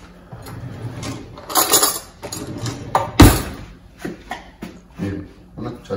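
A spoon stirs potato soup in a metal pot, with irregular close scrapes and clinks and one sharp loud knock against the rim. A voice speaks faintly underneath.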